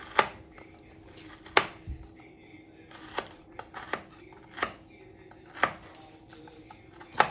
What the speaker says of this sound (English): cut it up into little pieces so it will mix well with your cake mixture